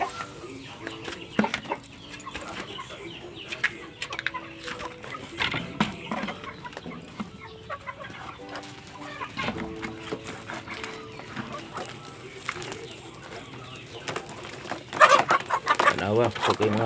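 Chickens in a coop cluck in short, scattered bursts at close range, with people talking intermittently in the background.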